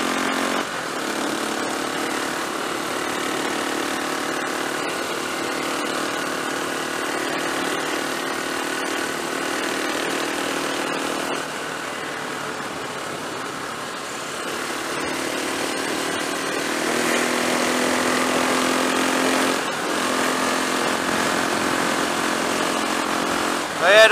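A motorcycle engine held steady at just under half throttle, a continuous droning hum running throughout with a slight rise in pitch and level partway through, heard from the rider's position on a ride across open moorland tops near Stanhope and Walsingham.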